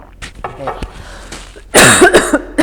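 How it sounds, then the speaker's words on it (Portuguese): Close, loud coughing in a few harsh bursts near the end, following some quieter vocal sounds. "Deixa eu tossir"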